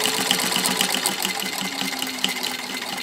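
A sewing machine stitches through a quilted Amish folded star hotpad, running steadily and close with a fast, even mechanical chatter that carries on alone.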